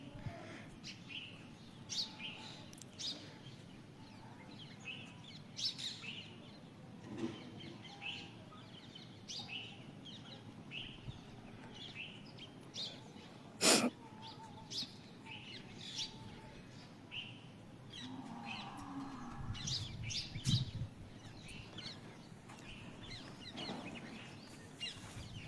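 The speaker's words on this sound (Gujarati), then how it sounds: "સુંદર મજાનો પક્ષીનો અવાજ સરસ આવી રહ્યો છે" Birds chirp and sing behind a village house in the morning, scattered tweets and calls coming and going at a moderate distance over a faint rural background, with one sharp close call partway through and no talking.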